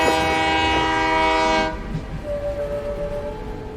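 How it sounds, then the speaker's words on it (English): A slow passenger train in Daliangshan, Sichuan sounds a loud, steady horn for about a second and a half, then it cuts off and a softer rumble and faint clatter of the train follow. "the sound of the train whistle is like a lullaby at night"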